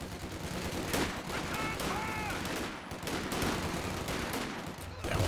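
Rapid gunfire in a Company of Heroes 2 battle as upgraded Stormtroopers fight riflemen at close range, dense overlapping bursts and shots filling the whole stretch, with a faint voice underneath.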